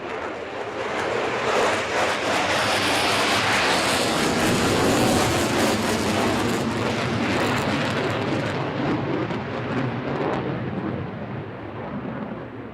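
A military jet, a Mark II aircraft capable of twice the speed of sound, roars through the flying display at Farnborough International Airshow 2024. The loud, continuous, broadband roar swells and fades slightly over about a dozen seconds, with no voices.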